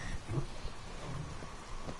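Steady rain with low rumbling thunder in the King's Quest video game, a continuous stormy wash at moderate level with no talking.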